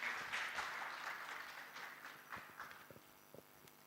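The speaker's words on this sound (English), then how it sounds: "Let's give him a big round of applause" A conference audience applauding at moderate volume, a dense patter of clapping that thins out toward the end into a few scattered claps.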